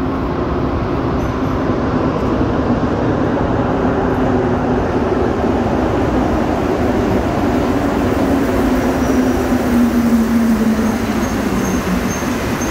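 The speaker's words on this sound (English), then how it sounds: "There's our train coming in the opposite direction" A metro train rumbles loudly and steadily as it arrives at Vendôme Metro Station, its tone slowly dropping as it rolls in, with a continuous heavy mechanical roar throughout.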